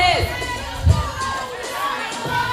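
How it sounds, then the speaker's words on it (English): Spectators cheer and shout for athletes during a timed fitness competition, a busy crowd roar with overlapping voices and one louder swell. "Come on, guys, let's cheer them on as they hit this point."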